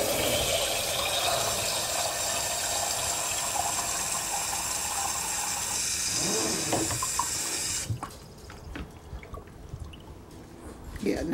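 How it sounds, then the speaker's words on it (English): Water splashes steadily onto bean sprouts from a tap or jug, a continuous close rushing pour that cuts off near the end, leaving faint drips and small handling sounds. "I'm just going to add some water to these"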